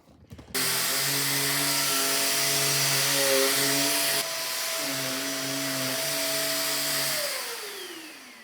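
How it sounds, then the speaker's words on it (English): A vacuum cleaner used on a sofa starts with a clunk and runs steadily with a droning motor hum, shifting pitch midway, then winding down near the end. "my Feetful vacuum for the sofa. And I must tell you, it's working beautifully there as well"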